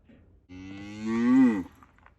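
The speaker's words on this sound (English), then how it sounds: "It was like a moo burp" A single low, drawn-out moo from a cow, nearby and rising slightly in pitch before cutting off, with a rough, belch-like quality.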